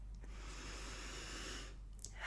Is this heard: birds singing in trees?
no